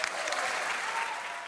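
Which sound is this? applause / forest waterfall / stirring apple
applause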